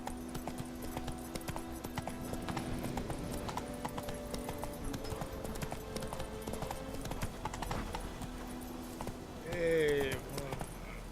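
Horse hooves clip-clop in a steady galloping rhythm through The Witcher 3 game world, continuous and mid-close, with a brief whinny near the end and game sounds underneath.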